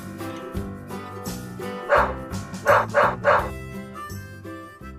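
A farmer's dog barks as a storybook sound effect, three or four loud woofs in a quick rhythmic run over layered music, close and prominent with no talk.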